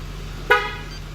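A single short car alarm chirp sounds as the vehicle is locked with a remote, one brief tone close by over a quiet background.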